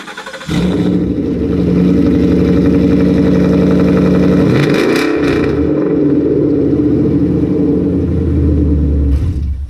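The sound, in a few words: car engine revving without mufflers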